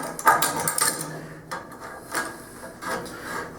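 A homemade welding fixture clamp is adjusted by hand, giving a quick run of close metallic clicks and ratcheting rattles, followed by a few scattered, softer knocks and rubs, with no voice.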